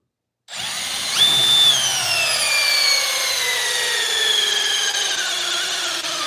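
A Milwaukee M12 Gen 2 Surge impact driver starts abruptly and runs steadily for several seconds, a loud close whining motor with a bright, slightly rising pitch and no talking.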